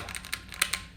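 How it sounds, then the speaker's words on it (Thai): Someone types on a Keychron Q1 gasket-mount custom keyboard, producing half a dozen soft, muted keystrokes in an uneven rhythm, close but quieter and more damped than a typical board. "อันนี้เสียงตัว Q1"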